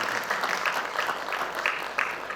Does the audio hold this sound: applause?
yes